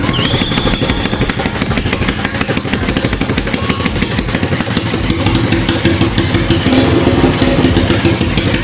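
A Suzuki Step 125 motorcycle with an open exhaust runs steadily and loudly up close, its rough, clattering idle and revving continuous throughout with no talk.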